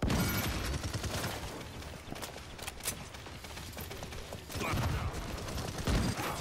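Rapid bursts of gunfire from a shooter video game, dense and loud throughout with brief lulls, swelling again near the end.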